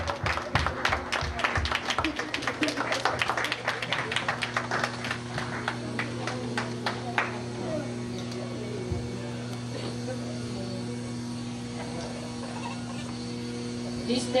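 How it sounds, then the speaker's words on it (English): Scattered clapping from an audience fades out after several seconds, leaving a steady electrical hum and faint room noise. "let's give her a big hand clap for this wonderful day"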